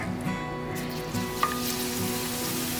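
Leftover vada pav batter, dropped by hand into hot oil to fry like boondi, gives a continuous close sizzle and bubbling with a small splash partway through.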